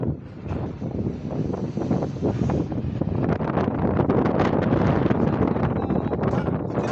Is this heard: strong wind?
yes